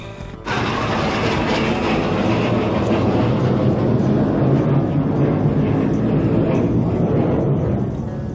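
An airplane passes low over a rocky shore fishing spot on Caoyu islet in Penghu. Its deep, loud engine roar rises suddenly and holds steady for about eight seconds before easing slightly, close and dominating, with no talk.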